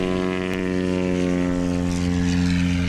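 Husky propeller airplane taking off at a STOL competition in Jennings, Louisiana, its engine droning loud and steady with a strong buzzing propeller hum throughout.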